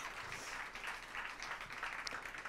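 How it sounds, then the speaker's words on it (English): Guests at the Room to Grow annual benefit gala clap together after an auction round, a moderate, somewhat distant spread of applause with a few sharper claps standing out. "Give yourselves a huge round of applause"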